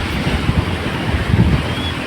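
Surf rolling onto Arnala Beach in Virar, a steady broadband wash of breaking waves mixed with gusty wind buffeting the microphone, with no voices.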